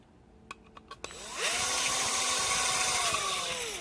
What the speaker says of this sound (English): make sure to use the correct drill bit size for each hole